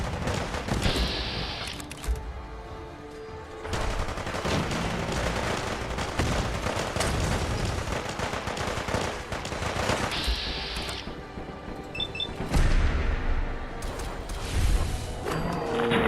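Gunners, a raider faction in Fallout 4, fire on the player in repeated bursts of automatic fire and heavy shots. The gunfire is loud and close, with short lulls between volleys.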